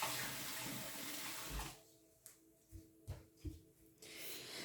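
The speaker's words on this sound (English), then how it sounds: "We're going to take our brush, but I have to rinse it off because I had color on it." Running tap water in the first part as a paintbrush is rinsed clean of color during a coffee-filter paper flower craft, a steady broadband rush that stops, followed by a few soft knocks and small splashes.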